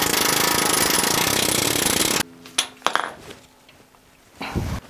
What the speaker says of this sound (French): Pour taper plus vite, moi j'utilise un marteau-piqueur.